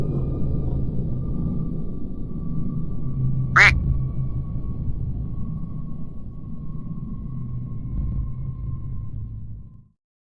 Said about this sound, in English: and now we have a radioactive duck.